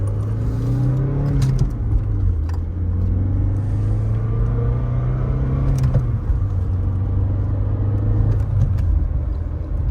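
A Saab car accelerating hard through first and second gear, a loud steady engine drone rising in pitch within each gear and dropping at the quick shifts, heard from inside with no talk.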